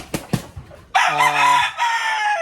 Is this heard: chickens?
yes